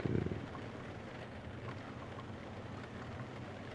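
Rain at the Kyalami circuit in a racing game makes a steady, faint hiss that runs throughout, with a brief louder thump at the very start, and nobody speaks.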